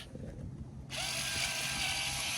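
A power drill bores into a tree trunk for a Mauget micro-injection, starting with a low grinding bite and then whirring steadily and brightly as the bit spins deeper, close and continuous.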